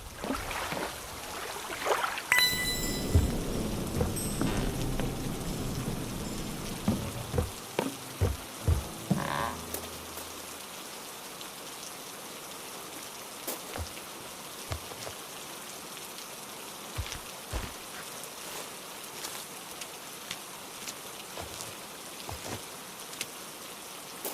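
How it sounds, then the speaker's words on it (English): Rain patters steadily in a dark lakeside dock scene of the psychological thriller game Who is Abby, with busy spattering noise early on that gives way to a softer continuous drizzle and scattered drips. "Finally out of the rain."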